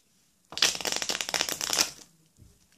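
A single riffle shuffle of playing cards, a dense burst of fluttering clicks lasting over a second, close and fairly loud, then quiet.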